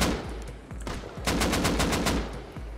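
Rapid automatic rifle fire from an AK during a close-range PvP fight in the survival game Rust, bursts of sharp cracks in quick succession, loud and close with no talk over them.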